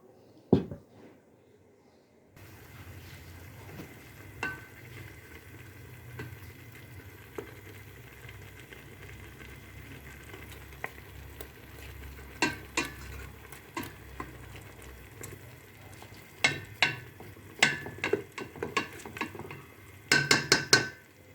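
Osban (stuffed tripe) with meat and peppers fries in a pot with a low, steady bubbling sizzle, broken by scattered clicks and taps of a utensil that get busier toward the end.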